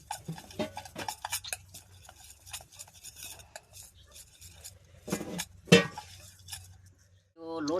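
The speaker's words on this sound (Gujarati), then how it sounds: "હવે આમાં લોટ નાખવાનો મિક્સ કરી દેવાનું" Flour being stirred into a spice mixture for sambharia, a spoon scraping and clinking against a metal bowl in steady strokes, with a louder cluster of clinks near the end.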